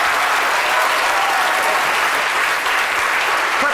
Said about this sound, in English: a big round of applause there for Mark